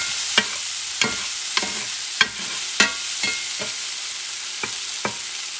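Three or four cloves of chopped garlic sizzle with finely chopped chorizo in a pan. About eight sharp scraping stirs land at a loose rhythm over a constant, close frying hiss.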